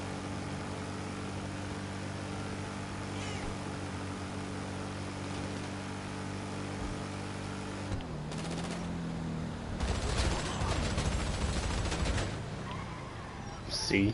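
SMG Mark II gunfire in Grand Theft Auto 5 on PS4, rapid automatic bursts rattling over the steady hum of game aircraft engines, with a brief spoken remark.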